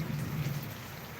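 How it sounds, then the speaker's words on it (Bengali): Steady rain hisses over Old Dhaka while a deep, low thunder rumble rolls underneath, fading slightly toward the end. "মেঘের গর্জন শোনা যাচ্ছে"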